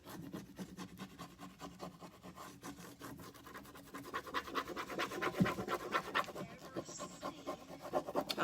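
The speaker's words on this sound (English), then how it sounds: "So we've got our transfer down. And you just rub." Close, steady scratchy rubbing of a rub-on transfer being pressed down onto a wooden surface, a continuous dry rasp that grows louder and busier toward the end, with no talking.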